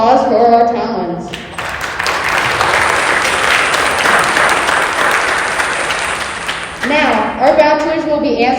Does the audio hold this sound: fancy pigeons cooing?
no